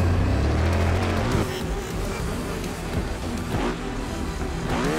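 A motorbike engine in Trials Fusion revs hard, then drops and rises again in short whining surges, close and loud, with a voice speaking briefly.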